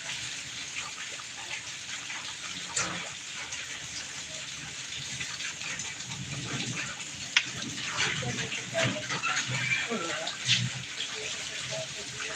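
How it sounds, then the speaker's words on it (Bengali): Steady heavy rain hisses and patters nearby, a continuous wash of noise with a voice speaking intermittently over it. "অনেক বৃষ্টি হচ্ছে"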